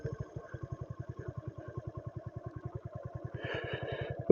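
Motorcycle riding along a road, its engine giving a steady, rapid pulsing thump close to the rider, with a brief rise of wind and road noise near the end.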